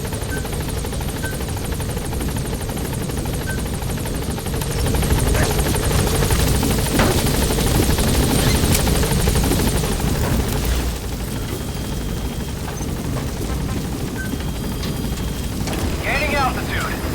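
Pequod helicopter from Metal Gear Solid 5 climbing as it gains altitude, a steady loud rotor and engine roar that swells in the middle and continues throughout, with game voice lines over it.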